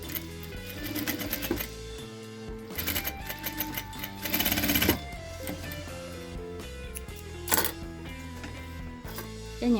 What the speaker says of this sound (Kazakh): Мына дайындап алған манжетті екі басын тігіп шығамыз.